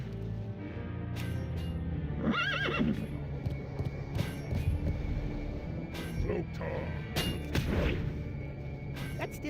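A horse neighs in a fantasy video game, a shaky whinny standing out over steady game background sound, with a second whinny later and people talking throughout.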